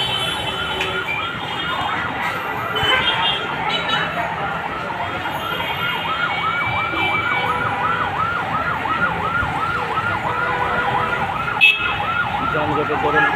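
An ambulance siren wails in a continuous rising-and-falling pattern through a heavy traffic jam near a slum fire in Kalshi, steady and moderately distant over the rumble of road traffic.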